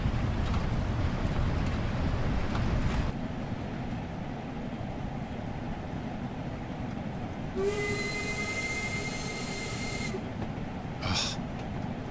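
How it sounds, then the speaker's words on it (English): A steam locomotive in Train Sim World 3 rumbles and chuffs steadily, then lets out a long steam whistle blast followed by a short hissing burst. "There's nothing like steam trains, is there?"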